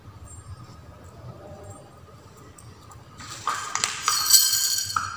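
A metal bolt clinks and rattles into place while a blood pressure meter is assembled: quiet room tone, then a cluster of sharp metallic taps and scrapes close by near the end.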